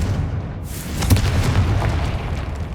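A Confringo blasting spell in Hogwarts Legacy bursts into a deep, booming explosion that rumbles low and fades over a couple of seconds.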